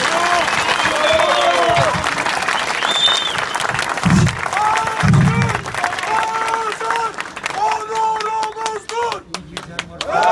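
Audience applause after a speech to mine workers at a Turkish political rally, a broad sustained clapping crowd lasting the whole stretch, with a voice speaking over it through the middle and end.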